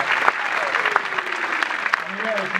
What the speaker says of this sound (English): Huge round of applause for that.